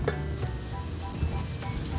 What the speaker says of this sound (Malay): Tumis sehingga garing dan terbit minyak